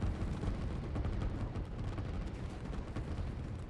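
Massed units, artillery and tanks firing in the strategy game Line War, heard as a dense, continuous rumble of overlapping distant blasts and shots that keeps a steady level throughout.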